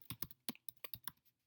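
Short burst of computer keyboard typing, about nine crisp key clicks in quick, uneven succession, close and alone.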